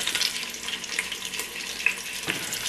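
Pork pigtails browning in a pan for a home-cooked family recipe: a steady, close hiss of frying and sizzling with occasional small pops and stirring scrapes.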